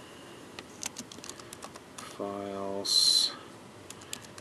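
Computer keyboard typing a command path at a command prompt, with light scattered keystrokes, a brief steady buzz and a short bright beep, heard close under faint speech.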